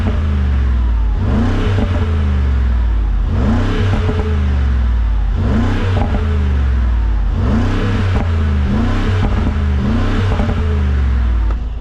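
A 2027 Mercedes G63 AMG facelift's V8 revs repeatedly, roughly every two seconds, with loud throaty swells over a deep rumbling idle, close up and with no talk.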